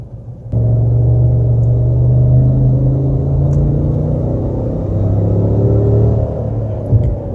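2018 Chevy Tahoe RST engine accelerating, a deep steady rumble that starts abruptly and holds strong for several seconds with a rising drone, heard from inside the vehicle.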